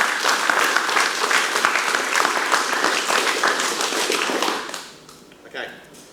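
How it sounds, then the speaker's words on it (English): A seminar audience gives a round of applause for an organiser at an anniversary event, many hands clapping densely and steadily for several seconds before the sound thins and fades, with a brief voice near the end. "so give her a round of applause"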